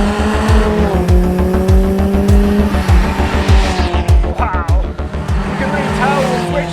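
A twin-charged Lancia Delta S4 Stradale engine revs hard, loud and close, rising and falling through the gears with a rough, rapid pulsing note and crackling overrun.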